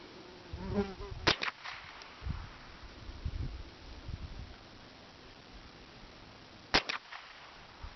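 AR7 .22 survival rifle firing at targets outdoors: two sharp, loud shots about five and a half seconds apart, each with a short echo trailing off, and quiet rustling and handling noise in between.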